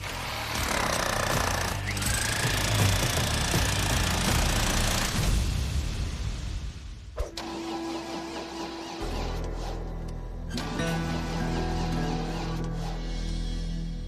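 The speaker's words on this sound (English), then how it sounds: "it actually takes a bit of a pounding with the jackhammer to pull it down too" Loud, rapid mechanical pounding of a jackhammer breaking dense ground on a gem-hunting dig for the first several seconds, then giving way to a steadier engine-like drone with a tonal hum.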